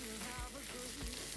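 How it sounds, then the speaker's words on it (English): Beef stir fry with carrots sizzling in a hot pan, a steady crackling fry with a couple of soft low thumps from stirring, close and alone. "It's been cooking for like 3 minutes now. I'm going to add in the carrots. I will give it a good mix."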